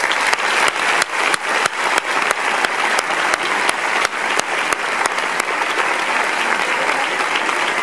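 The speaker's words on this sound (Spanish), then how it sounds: "pido un fuerte aplauso para los padres, tíos, abuelos y demás familiares que están hoy aquí con nosotros" A graduation audience claps loudly for the families present, with sharp individual claps standing out at the start before merging into a thick, sustained round of applause.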